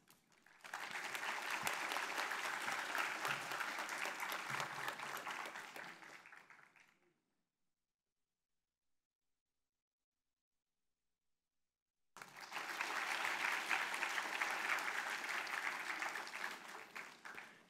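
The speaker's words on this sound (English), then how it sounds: "give her and her husband, Mr. Nicholas Robinson, a warm applause" An audience at an award symposium breaks into sustained applause for several seconds, falls silent, then claps again in a second long, even burst that gradually tapers.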